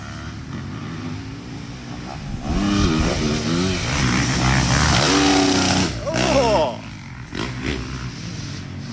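A motorcycle engine revs hard while being ridden, its pitch rising and falling through several surges that swell loud in the middle, with a person talking over the engine noise.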